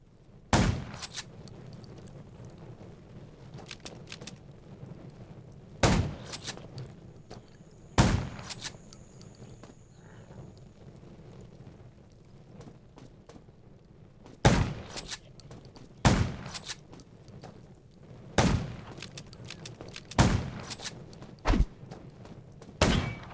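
Gunfire in the Undawn open-world zombie survival game: sharp, loud single shots spaced irregularly several seconds apart over a steady low ambient rumble, no talking.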